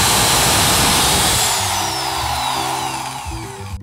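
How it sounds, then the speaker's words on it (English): A loud power drill whines at high speed boring holes in clamped wood pieces, its pitch dipping and steadying as it bores, running continuously close by. "Drill out all my holes at once."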